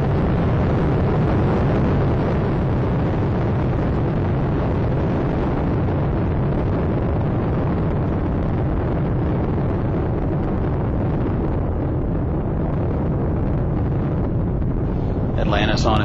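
Space Shuttle Atlantis roars through its launch on the three main engines, a loud, continuous, broad rumble that fills the whole clip.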